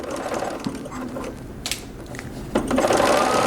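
A sewing machine fitted with a quarter-inch foot stitches a seam, a close, steady mechanical whir with rapid rhythmic clatter, growing slightly louder toward the end.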